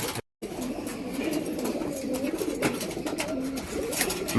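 Domestic flying pigeons coo softly in a loft, low rolling calls repeating close by over a busy background of rustling and fluttering, with a brief dropout near the start.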